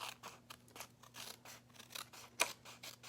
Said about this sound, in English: cut away that excess flap